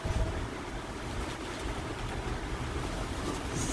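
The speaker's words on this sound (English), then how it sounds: "the wind is blowing" Wind blowing steadily through a home garden with potted plants, a broad, even rushing roar with gusty swells that stays loud and continuous throughout, with no voices.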